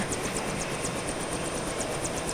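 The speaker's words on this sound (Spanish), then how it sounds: "¡Helicóptero con el tío este!" Steady whirring helicopter rotor and engine drone in LEGO Jurassic World, loud and continuous with a rhythmic high chopping pulse, no voices.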